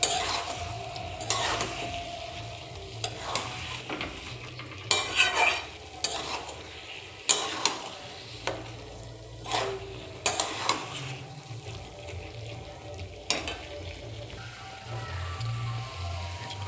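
Boiled ingredients are sautéed with spices in an oiled pan without water, a continuous sizzle punctuated by frequent scraping and clattering strokes of a spatula against the metal.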